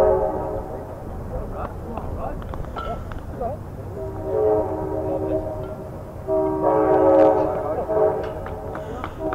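A train rolls past near a baseball field, its horn sounding in several long blasts that swell louder toward the end over the rumble of the cars, with a commentator talking throughout.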